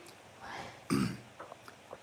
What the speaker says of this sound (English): I have that cough again from overexerting.